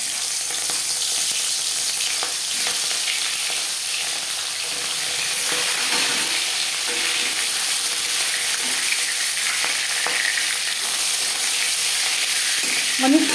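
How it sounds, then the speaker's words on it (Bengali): An aar fish head fries in about four spoons of hot refined oil in a kadai, giving a close, steady sizzle with faint bubbling and occasional stirring scrapes. "তাই প্রথমে আমি মাথাটা বেশ ভালো করে ভেজে নিচ্ছি।"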